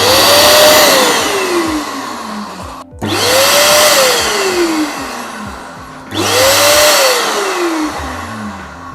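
Mollar ESG450 electric spray gun motor running and blowing air in three loud bursts, each with a rising-then-falling whine and steady broadband air rush, separated by brief cutoffs.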